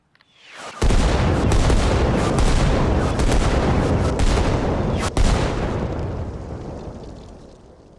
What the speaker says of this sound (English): But if I start putting mortar barrages on this